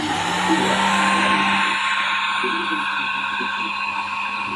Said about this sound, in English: This is just a heat gun.